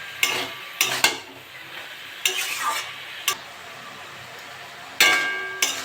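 Greens with potatoes, turmeric and salt are stirred in a frying pan: a handful of sharp spoon scrapes and clatters come in separate bursts over a soft, steady sizzle, close and fairly loud.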